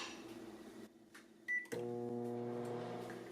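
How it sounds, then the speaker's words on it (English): A microwave oven heats a bowl of milk and butter to melt it: a short beep, then a steady low electrical hum settles in, close and fairly quiet. "Now we need to melt it in the microwave for 30 seconds."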